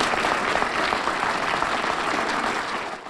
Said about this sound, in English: the crowd roared their approval